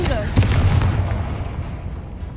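A Confringo fire spell bursts in Hogwarts Legacy with a sudden loud boom and crackling blast that rumbles and fades over about two seconds.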